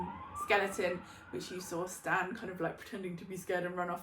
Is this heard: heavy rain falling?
no